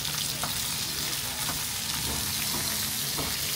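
Anchovies (cá cơm) fry in a pan in a Kenyan slum kitchen, giving a close, steady sizzle with crackling pops and occasional stirring scrapes, with no voices.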